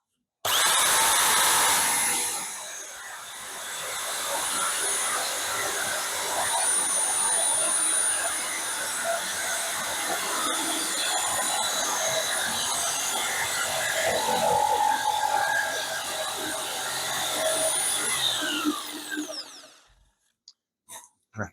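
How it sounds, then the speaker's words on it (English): A power saw cuts wood for a shield build, a loud, steady, close whine that runs for about eighteen seconds before stopping abruptly. "So this saw is pretty cool."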